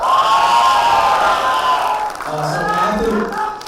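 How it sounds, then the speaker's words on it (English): Student delegates cheering at a Model United Nations conference valedictory, a loud burst of shouting and whooping voices that fades into scattered cries and chatter after a couple of seconds. "Members of Lok Sabha, if you had a great learning experience, can I have a cheer first?"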